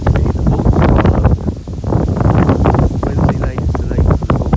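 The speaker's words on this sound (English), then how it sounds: "Very, very windy today." Strong wind buffets the microphone beside a lake with boats out on the water, a loud continuous gusty roar that rises and falls throughout while a voice talks underneath.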